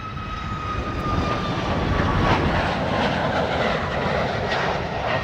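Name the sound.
Ryanair Boeing 737 MAX 8-200 jet taking off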